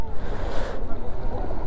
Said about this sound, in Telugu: సముద్రంలో ఇక్కడ వేవ్స్ వస్తున్నాయి,